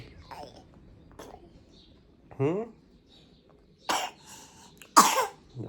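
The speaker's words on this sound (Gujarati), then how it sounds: "હજી ઉધરસ મટી નથી, દવા ચાલુ છે." Someone with a lingering cough from an illness gives a few short, sharp coughs spaced out over several seconds in a quiet room, with a brief throat-clearing sound in between.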